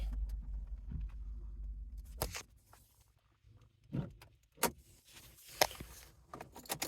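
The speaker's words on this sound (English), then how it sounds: "we're gonna pop the trunk" A truck's trunk release popped, heard as a low idle hum that cuts off, followed by a few close clunks, latch clicks and rattles.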